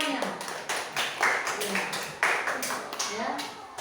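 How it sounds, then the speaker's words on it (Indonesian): A short burst of uneven hand clapping from a small group, the claps overlapping in a loose patter before fading. "Berikan tepuk tangan untuk kawannya."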